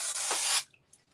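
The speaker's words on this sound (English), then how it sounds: "I'm going to spray it into my trash can" An aerosol spray can blasting into a trash can, one loud close hiss lasting about half a second that cuts off sharply and leaves near silence.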